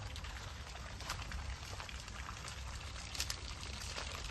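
On a farm plot near the Kaveri river, water runs from a drip irrigation pipe, making a faint, steady trickling and splashing close by, with no voices.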